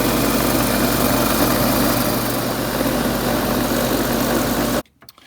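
A wood lathe spins a cross-cut pen blank while a gouge cuts it, giving a loud, steady motor whir with a rough cutting rasp that stops abruptly near the end.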